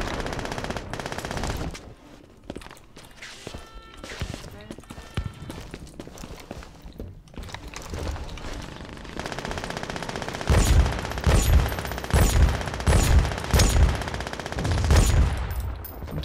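Rapid machine gun fire in the shooter game Brink, with loud sustained bursts of fast repeating shots and a few short pauses, building to heavier, punchier volleys near the end with no talk.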